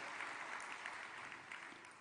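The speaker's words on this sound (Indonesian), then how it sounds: "Ketua Komisi 7, tepuk tangan buat beliau" Audience applause for the chairman of Commission 7 at a mass KUR credit signing event, a steady wash of clapping held at moderate level throughout, slightly fading toward the end.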